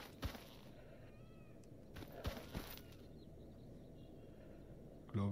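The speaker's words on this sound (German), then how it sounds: "ich höre Miezekätzchen" In the game STALKER Anomaly, a cat gives a short, faint meow amid a quiet outdoor ambience, with a few soft knocks and rustles nearby.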